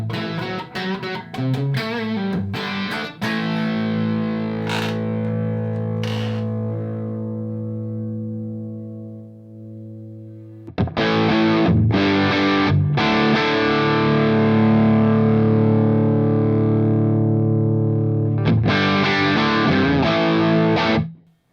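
An electric guitar played through a Morgan MVP66 tube amplifier, overdriven with a warm, saturated tone: strummed chords ring out and decay, then a second burst of driven chords plays loud and full.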